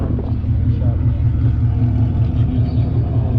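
A loud car engine running through an MBRP exhaust with headers and no catalytic converters, a deep steady rumbling drone with slight revving, while people talk over it.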